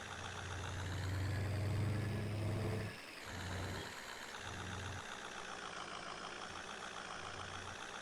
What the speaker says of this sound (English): I'd definitely like to update this truck, but it's a farm truck, so it's fine.